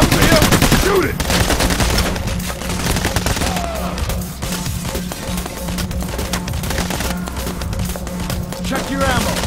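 Dense bursts of automatic gunfire and rapid shots from the video game Payday: The Heist, loud and close, crackling almost continuously under shouted voices.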